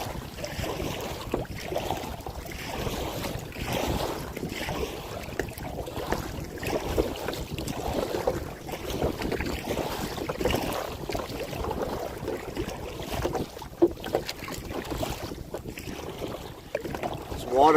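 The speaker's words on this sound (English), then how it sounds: "the wind is picking up as soon as I get out onto the lake" Steady wind blows over a lake during kayaking, a continuous broadband rush of wind noise against the microphone, with water movement beneath it and no voices.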